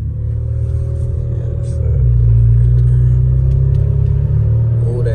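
Turbocharged sleeper Buick engine pulling away from a light while still cold, a loud, steady low rumble that swells after about two seconds and holds a strong droning tone to the end.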